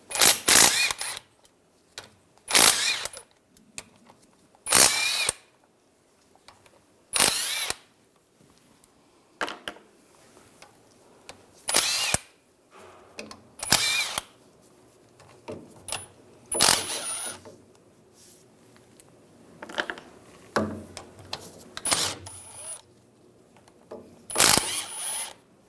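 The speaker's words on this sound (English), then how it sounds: "We're going to take these cover bolts out. I'm going to use a 13mm socket." Cover bolts come out of a 2011-2018 Ram 1500 rear brake assembly under a 13mm socket, a series of sharp metallic ratchet clicks and clinks in short bursts with quiet gaps between them.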